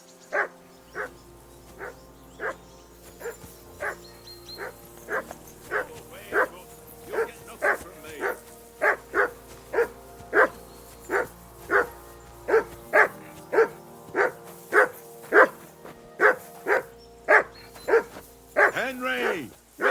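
A dog in the medieval game Kingdom Come Deliverance 2 barks steadily and rapidly, around thirty sharp close barks in even rhythm, over a low background hum.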